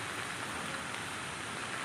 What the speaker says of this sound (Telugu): చూడండి ఎట్లా పోతున్నాయో నీళ్ళు వరద